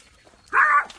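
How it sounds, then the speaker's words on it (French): A small dog in a village gives a single sharp bark, loud and close, rising briefly out of a quiet background. "On a un chien ici. Petit chien là."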